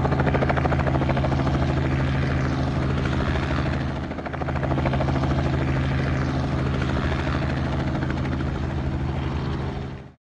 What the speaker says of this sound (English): So today I'm going to take a helicopter lesson.